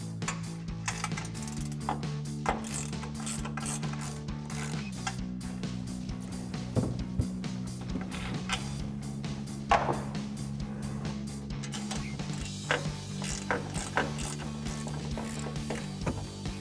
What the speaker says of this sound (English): take a 15mm ratcheting wrench to remove our three upper strut nuts